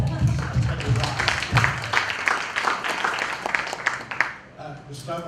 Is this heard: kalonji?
no